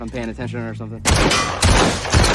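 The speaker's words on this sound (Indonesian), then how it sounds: "Tommy mulai mengajari Julian cara menembak" Gunshots from shooting practice in a film: a voice speaks briefly, then a few loud, sharp shots ring out at close range, each with a short echoing tail.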